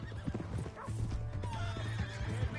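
Horse neighing and hooves clopping in the Red Dead Redemption 2 video game, a busy mix with a steady low hum and dense game sound throughout, no clear speech.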